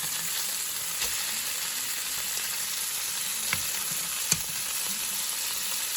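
Pork chop pinwheels frying in a pan, a steady close sizzle holding throughout, with a couple of faint clicks and one sharp tap near the end.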